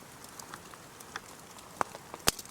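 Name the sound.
big raindrops hitting a space blanket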